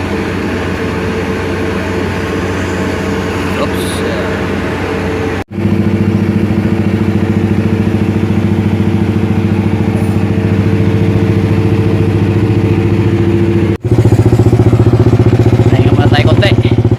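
A motorcycle engine drones steadily and loudly on the BUDA highway between General Santos and Cagayan de Oro, with strong wind rush and a constant low hum and two brief dropouts.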